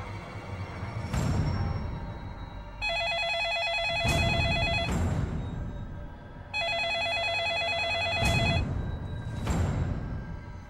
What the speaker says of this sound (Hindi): कहीं सुषमा आंटी तो फोन नहीं कर रही?